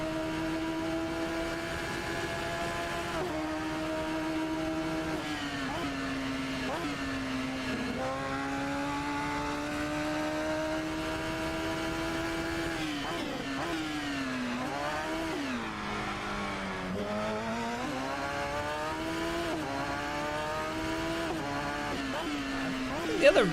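A Radical race car engine in RaceRoom at Daytona holds a buzzing high whine, then revs and drops through gear shifts, steady and fairly loud throughout.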